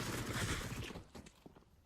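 MP9 submachine gun fire in Counter-Strike on the Mirage map opens as a dense, loud burst of rapid shots, then thins to a few scattered, fainter reports.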